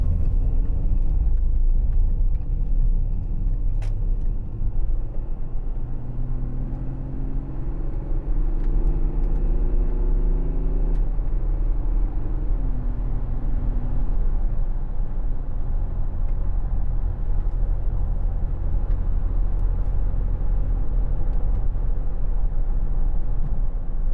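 A 2010 Audi Q7 3.0 TDI S line Tiptronic Quattro accelerating on the road, its diesel engine rumbling steadily as the revs climb through gear changes under constant low road and cabin noise.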